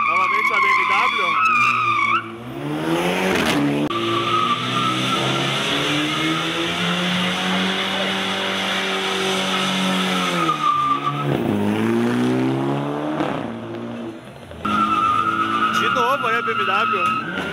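A BMW does a tire-squealing burnout at a car meet in Curitiba, Brazil. The engine revs loudly and the tires shriek long and close, rising and falling, while a voice talks over part of it.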